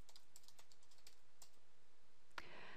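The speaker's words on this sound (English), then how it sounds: "on the keyboard, you press Alt 1 for level 1" Keyboard shortcuts are typed on a computer keyboard, producing a handful of quiet, crisp key clicks spaced irregularly, with one sharper click near the end.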